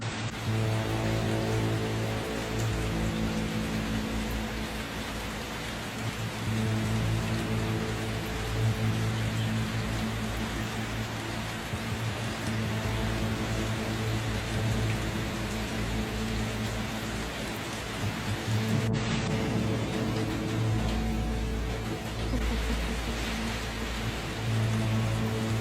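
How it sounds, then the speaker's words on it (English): Heavy rain pours steadily during flooding in Arizona, a dense, continuous hiss that stays loud and unbroken throughout, with a low rumble underneath and no voices. "Arizona just got hit with 2 months of rain"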